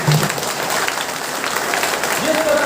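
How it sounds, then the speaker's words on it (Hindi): Audience clapping at a Rashtra Uday Party political rally in Fatehpur, a steady broad wash of applause from a crowd, loud and continuous throughout, with faint voices mixed in. "ताली तो बजा दो यार।"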